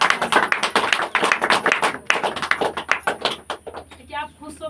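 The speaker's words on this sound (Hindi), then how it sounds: "इनके लिए जोरदार ताली बजाएं" A church congregation claps loudly for a sister, producing sharp, rapid, uneven hand claps in bursts that thin out toward the end, with voices mixed in.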